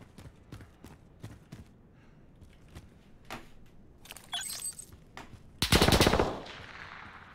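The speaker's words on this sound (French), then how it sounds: "Les coups de feu vous alerteront de la présence d'ennemis." Gunfire in the video game Call of Duty Warzone: a series of sharp single shots at a steady pace, then a louder rapid burst near the end.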